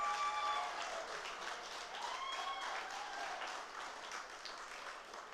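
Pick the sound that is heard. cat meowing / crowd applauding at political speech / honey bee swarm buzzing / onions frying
crowd applauding at political speech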